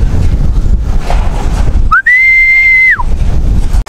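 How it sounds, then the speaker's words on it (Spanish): A single sustained human whistle, rising sharply then holding a steady pitch for about a second before dropping off, set against loud background noise. "Siempre que le chiflo, se asoma o contesta."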